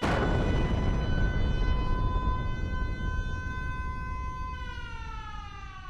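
A wartime air raid warning siren wails loud and steady for several seconds, its pitch holding and then beginning to slide down near the end, heard alone with no voices.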